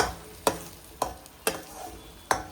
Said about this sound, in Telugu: ఫిష్ ముక్కలు అయితే వేస్తున్నారు.